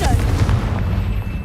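A Confringo blasting spell goes off in the Hogwarts Legacy video game, a booming, rumbling blast with crackling debris that fills the short moment, heavy in the low end, while a voice is heard under it.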